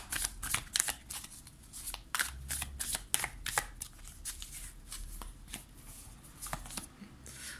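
Light of Circe tarot cards being shuffled by hand, with rapid riffling flutters and repeated papery slaps in a steady rhythm, close and fairly clear, without talk.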